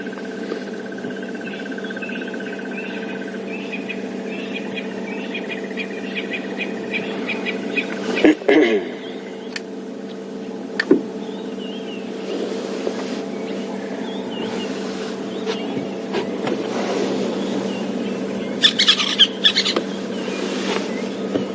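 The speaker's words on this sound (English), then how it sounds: "that's one of the birds you can hear calling now. But there's also starlings and francolins that are adding to the morning chorus." During a morning safari drive, a magpie shrike, starlings and francolins call in a dawn chorus of scattered chirps and whistles. The calls ride over a steady low hum, with occasional clunks nearby.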